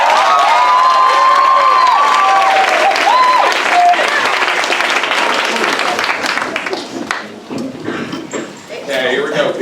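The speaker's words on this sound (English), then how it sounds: "Give them a little motivation applause." An audience breaks into a dense burst of applause and cheering that fades over several seconds while a voice talks over the clapping.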